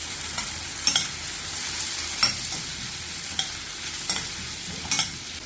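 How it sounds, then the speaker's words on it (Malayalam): Half a medium carrot and some beans, finely chopped, are sautéed in a pan for wheat rava kichadi. A soft, continuous sizzle runs under repeated spoon scrapes and stirs that land every second or so. "ഒരു മീഡിയം സൈസ് ക്യാരറ്റിന്റെ പകുതി ചെറുതായി മുറിച്ചതും കുറച്ച് ബീൻസ് ചെറുതായി മുറിച്ചതും ചേർത്ത് വഴറ്റാം."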